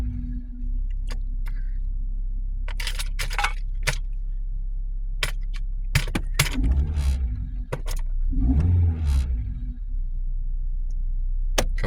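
A 1990s Toyota Corolla engine held at full RPM gives a steady, close droning rumble for the whole stretch, with scattered clicks and knocks on top and a couple of heavier surges.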